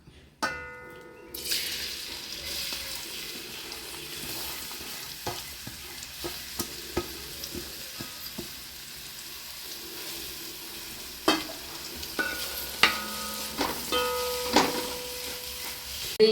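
Chopped ingredients dropped into oil left over from frying chicken, a sizzle that jumps up after a soft start, then a steady frying hiss broken by repeated stirring knocks and scrapes against the pan.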